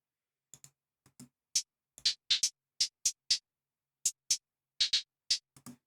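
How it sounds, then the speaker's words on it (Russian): An unprocessed, default hi-hat sample played in a trap beat pattern: a string of crisp, bright ticks in uneven rhythm, some doubled or tripled, close and dry with no talk. "Дальше идут хай-хеты, без обработок они звучат вот так."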